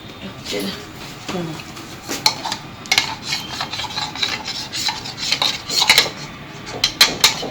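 A spoon mixes something in a bowl, a run of scraping, rasping strokes with small metallic clinks that grow busier and more rhythmic toward the end, close and clear, with some talk at times.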